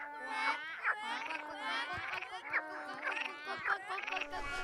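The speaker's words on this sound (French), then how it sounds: "Là-bas, elle croise un groupe de grenouilles aux couleurs éclatantes." Brightly coloured frogs from South America croak in a quick, rhythmic series of bursts that repeat about once a second, close and clear, with no talk over them.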